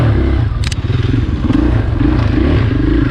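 A 2020 KTM 500 XCF-W dirt bike ridden on a trail at Crow Canyon, its engine a loud, steady throbbing drone up close, with rattles and scrapes from the terrain.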